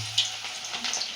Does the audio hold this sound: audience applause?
no